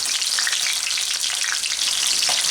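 Sous vide salmon sears in a hot pan with a loud, steady, dense sizzle that holds at the same level throughout, with no voices.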